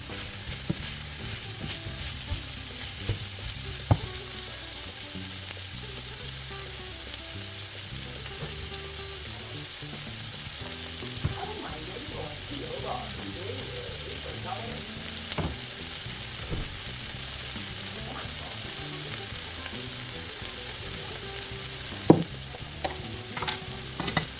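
Diced carrot sizzles steadily in a frying pan, a continuous close crackle with occasional stirring clicks and scrapes, no voices.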